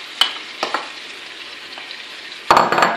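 Onion, crushed parsley and spices sizzle in a pan for a lamb tajine with prunes, with a few sharp scrapes of stirring early on and a louder clattering burst of mixing near the end.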